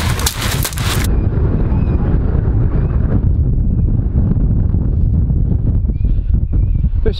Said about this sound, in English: It's bloody wind, yet again.